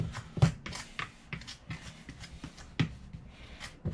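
Butter being cut into flour for a pie crust, with a pastry tool scraping and chopping through the dough in an uneven, close rhythm of soft taps and gritty scrapes.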